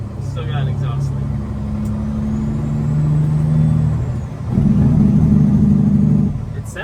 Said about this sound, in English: Still got an exhaust leak.